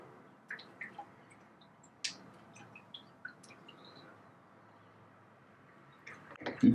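Water drains from an ultrasonic record cleaning machine at a table edge, a quiet trickle with scattered small drips and faint squishy gurgles, ending in a louder splash.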